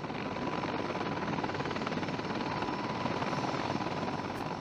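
A Mi-26 heavy-lift helicopter used for firefighting by the Belarus Ministry of Emergency Situations gives off a steady, dense rotor and engine roar that holds at an even level throughout, with no voices.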